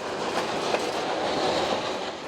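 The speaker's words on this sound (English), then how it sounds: "This is one of the better trains we've ridden." Authentic heritage train rolling along track through old mining country, a steady close rumble with faint clickety-clack of wheels, heard from inside the carriage without talk.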